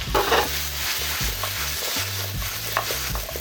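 Potatoes and carrots are stir-fried for curry in the same pot where meat was just seared. A spatula scrapes in rhythmic, repeated strokes over a low, continuous sizzle, close and fairly loud.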